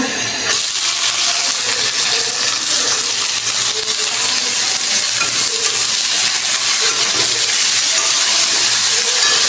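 Cabbage frying in a pan, a loud, steady broadband sizzle and hiss throughout, with scattered light metallic clinks and scrapes from stirring.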